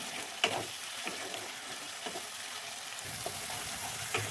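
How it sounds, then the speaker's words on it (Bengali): Curry masala with yogurt for a pea and egg dhoka curry fries and is stirred in a pan, giving a steady close sizzle broken by soft scraping strokes of the spatula, with no talk. "এবার ভালো করে কষিয়ে দিচ্ছি।"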